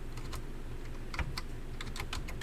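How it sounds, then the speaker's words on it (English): Computer keyboard typing: a quick, light run of close key clicks in small clusters over a faint steady background hum, with no talk. "let's just type the word"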